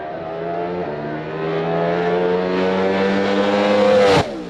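A race car engine screams near 10,000 RPM, pitch climbing steadily through a gear change on a 5-speed gearbox before cutting off sharply, loud and close.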